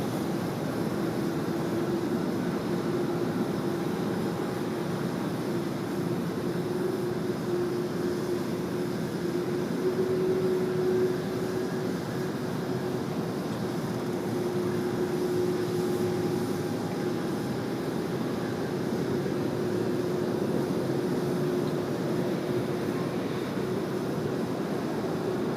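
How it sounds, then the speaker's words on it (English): Singapore Airlines flight 231 from Changi landing on runway 16 right at Sydney Airport, a steady distant jet roar and rumble holding through the whole stretch without a clear peak. "Here we go, clear to land now on runway 16 right, the Singapore 231 service coming in from Changi."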